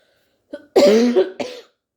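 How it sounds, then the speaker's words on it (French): A single person coughs up close: a small throaty catch, then a harsh wet cough followed by a shorter one, in otherwise silent surroundings. "Pardon pour la toux."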